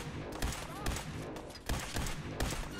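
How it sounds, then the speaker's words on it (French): A newly acquired weapon in the video game Fallout 4 fires several loud shots at irregular intervals over a busy, noisy game background. "Attendez, on va essayer notre arme quand même."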